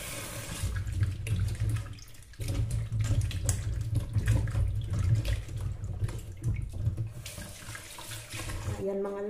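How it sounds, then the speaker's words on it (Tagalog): Peeled potatoes rinsed under a running kitchen tap, a close continuous splash of water with handling noises, briefly interrupted near the start and cut off at the end. "Hugasan natin yung ating potato."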